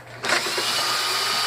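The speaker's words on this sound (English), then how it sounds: "Rather than doing it by hand, much easier with the drill." A power drill spins up abruptly while removing bolts from a temperature control unit, a loud steady whine that holds for just over a second, close by.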